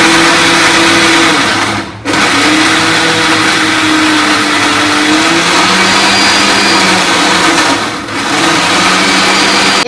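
A kitchen mixer grinder whirs loudly and steadily, pulverising ingredients into a dry powder for a Gujarati sweet, with two brief dips where the motor pauses and restarts; nobody speaks.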